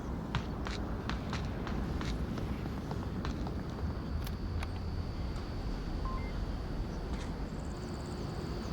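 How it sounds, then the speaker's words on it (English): Footsteps in a competitive first-person video game, a brisk regular series of sharp steps early on that thins to scattered taps, over a dense steady background rumble with a thin tone and a few beeps, close and clear. "Scooby can hear footsteps of Miyagi."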